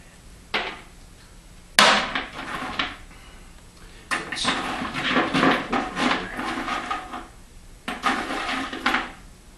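Black walnut shells struck with a hammer to crack them, a series of sharp close knocks and cracks in separated bursts with quieter gaps between hits.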